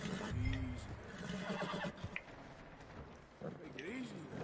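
In Red Dead Redemption 2, a horse whinnies nearby with a short rising squeal, then snorts and shifts, with speech heard around the sounds.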